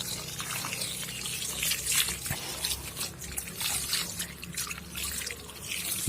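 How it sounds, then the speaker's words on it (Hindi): Water poured onto potted plants during repotting, including marigolds, soaking into the soil with a steady trickling and dripping splash that runs continuously at close range. "इसको भी दे देते हैं अच्छे से पानी, थोड़ा ज़मीन पे डाल देते हैं।"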